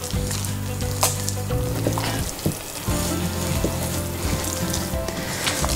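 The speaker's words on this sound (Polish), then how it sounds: "to ciasto musi tak trochę tutaj pracować, musi być je słychać, musi wydawać takie rozmaite dźwięki" Soft bread dough is kneaded by hand, making wet, squelching, sticky slaps and squishes at close range over steady background music.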